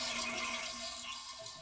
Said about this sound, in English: when you flush it, the water comes running out